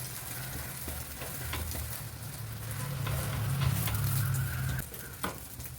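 An omelette fries in a pan with a steady close sizzle that swells midway, while a low hum runs beneath and a few soft clicks of a utensil are scattered across it.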